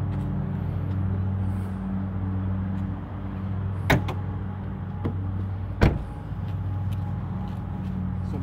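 The hood of a 2017 Jeep Renegade being opened: two sharp, distinct latch clicks a couple of seconds apart stand out over a steady low rumble and room hum.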